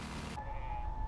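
A lone kitten in the horror game Amanda the Adventurer gives a single short, clear meow, close and fairly soft, over a faint background hum.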